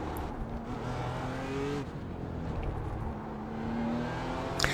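A BMW M4 GT4 race car engine drones steadily around the Spa circuit in iRacing, a moderately loud, sustained tone that shifts pitch with gear changes, heard alone without speech.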